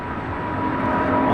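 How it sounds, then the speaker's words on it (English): An American Airlines A321 arriving on runway 25 left at Los Angeles airport makes a steady, broad engine roar that swells slightly as it approaches, heard from outside at a distance with no voices. "This is American Airlines 2455 coming in from Boston on the A321."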